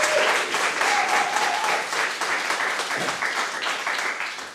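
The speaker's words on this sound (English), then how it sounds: "How about a big round of applause for Marios and the Cyprus Convention?" Loud, sustained audience applause at a film festival programme announcement, continuous clapping from a large crowd that eases slightly toward the end, with faint voices and a brief tone in the mix.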